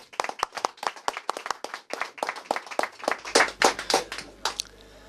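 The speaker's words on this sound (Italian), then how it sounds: "Un applauso." Hand clapping from a small audience at an Italian regional television broadcast, starting as scattered distinct claps and building into fuller applause for several seconds, fairly close.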